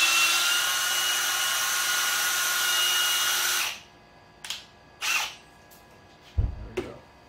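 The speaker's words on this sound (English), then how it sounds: "So I'm going to put these into my drill." A power drill twisting wires together whirs steadily for several seconds, then stops, followed by a few short whirring bursts and a clunk.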